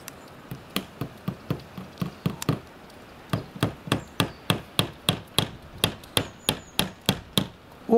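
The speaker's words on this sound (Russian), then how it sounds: "Вверху первый прибей, чтобы держало. Первый гвоздь вверху бей." A hammer drives nails, giving a long series of sharp, ringing wooden knocks, close and loud. The blows start at a moderate pace, pause briefly, then come in a faster, even rhythm.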